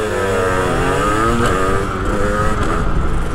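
A small 50cc motorcycle engine drones steadily throughout, its pitch rising and falling as it revs, close and loud with no voices.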